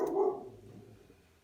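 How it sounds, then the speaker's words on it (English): A single dog bark sounds at moderate distance indoors, a short, muffled burst that fades quickly into quiet. "That's my dog barking."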